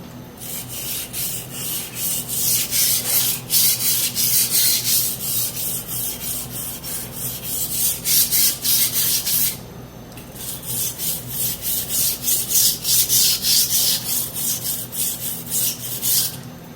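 A kitchen knife is sharpened on a 1000-grit whetstone, steady back-and-forth scraping strokes repeating in a brisk rhythm up close, with one short pause midway before the strokes resume.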